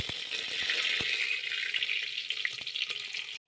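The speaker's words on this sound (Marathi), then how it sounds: "फोडणीसाठी आपण तेजपत्ता आणि कढीपत्त्याची पानं घालायची।" Bay leaf and curry leaves hit hot oil for tempering in an egg biryani, giving a steady, close frying sizzle with faint crackles that cuts off abruptly at the end.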